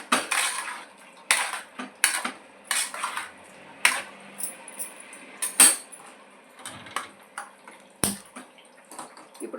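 Sweet potato fry being stirred in a pan, with repeated close metallic scrapes and clinks of a utensil against the pan in irregular bursts, without talk.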